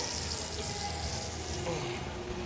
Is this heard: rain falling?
no